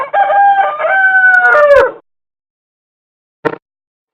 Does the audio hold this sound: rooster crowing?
yes